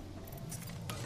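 Weapon reloading in a video game: a short burst of metallic clicks and scraping mechanical snaps, close and crisp over a low droning background.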